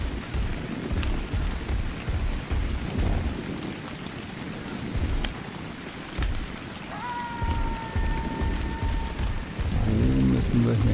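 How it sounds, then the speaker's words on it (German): Steady heavy rain falls with rolling thunder in the survival video game Ark, a continuous dense wash with low rumbles and a brief tonal sound partway through. "Ja, jetzt regnet es natürlich."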